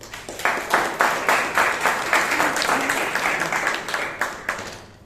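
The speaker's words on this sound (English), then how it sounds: "Please give him a round of applause." Audience at a Bangalore Toastmasters meeting gives a round of applause, steady rhythmic clapping from a modest room crowd lasting several seconds, fairly close and even, then tapering off.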